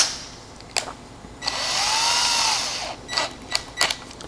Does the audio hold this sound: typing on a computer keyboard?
no